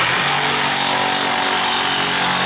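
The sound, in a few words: Sawzall reciprocating saw cutting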